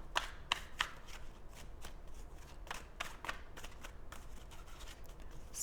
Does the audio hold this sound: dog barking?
no